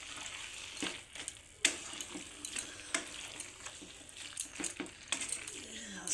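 Grated coconut being stirred into a taro-leaf curry in a pan, with bursts of scraping and clinking from the spatula over a soft sizzle, as stirring strokes come irregularly throughout.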